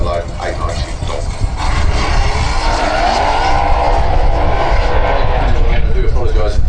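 A drag racing car at Santa Pod roars down the strip, a loud sustained engine blare with a rising, sweeping pitch, heard from trackside under continuous crowd and commentary background noise.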